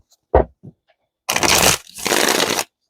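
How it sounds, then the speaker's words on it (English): Rider-Waite tarot deck being shuffled up close: a couple of short taps and flicks, then two longer loud riffling bursts of cards separated by a brief pause. "Shuffle these up."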